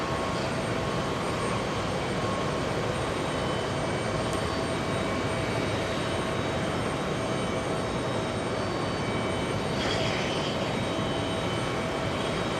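A Boeing 777 jet at JFK airport produces a steady, loud, broadband roar of engines that fills the whole stretch without letting up, with no voices over it.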